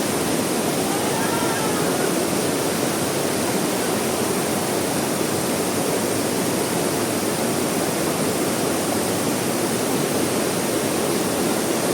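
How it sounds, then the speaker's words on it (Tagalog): River water spills over as a small fall into a river beside a resort swimming pool, giving a constant, loud, broadband rush that stays even and close for the whole stretch. "Ang tubig nga pala na dumadaloy sa swimming pool ng Dalitiwan Resort ay galing mismo sa katabing ilog at tumatagos dito na nagiging talon papunta ng ilog."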